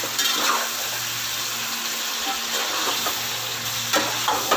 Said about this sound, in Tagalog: Haluin muna natin para maghalo yung mga ingredients natin, hindi masunog sa ilalim.